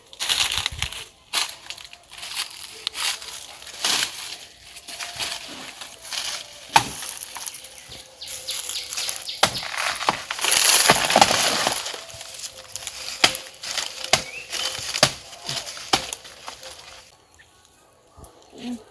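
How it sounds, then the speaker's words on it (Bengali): A banana tree's stem is hacked and cut through outdoors for its edible core: a run of sharp, crunchy, splintering chops and snaps, close and loud, with rustling between strikes and no talk. "আমি এই কলা গাছ থেকে থরটা কেটে নেবো"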